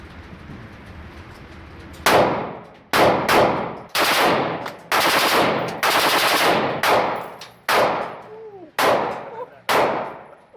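Tokyo Marui AKM gas blowback airsoft rifle fitted with a 130% recoil spring fires full-auto in a string of about nine loud, close bursts with short gaps, each a sharp rattling volley of cycling clatter.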